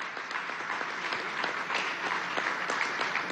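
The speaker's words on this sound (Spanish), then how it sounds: "Y pido un aplauso para esos estudiantes universitarios." Sustained applause from an audience at a national university admissions ceremony, honoring medical students, dense and steady throughout with no speech over it.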